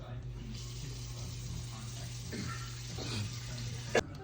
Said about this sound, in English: Once you fill up the pot with water,